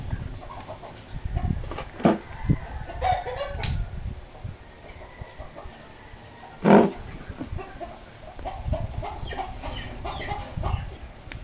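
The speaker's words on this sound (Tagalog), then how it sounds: "Kalagot manghasi ang mga manok nako." Chickens cluck on and off over a low farmyard background, with one sharp, louder call standing out midway.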